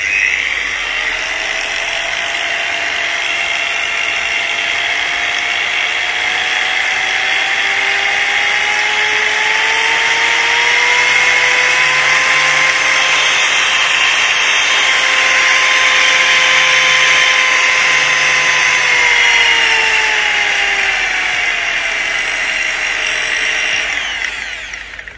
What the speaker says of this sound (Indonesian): kita akan mulai dari putaran yang paling rendah ya. Nanti kita akan putar sedikit demi sedikit ke putaran yang lebih tinggi